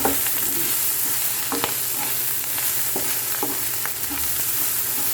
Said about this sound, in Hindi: ये हमारे छोले फ्राई हो गए।